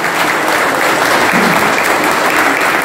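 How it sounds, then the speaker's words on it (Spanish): Audience applause for Marcelo Valdés at a kayak clinic held at a fishing club, a steady, dense wash of clapping at full volume that carries on unbroken from start to finish with no voices rising above it. "así que un aplauso para Marcelo Valdés"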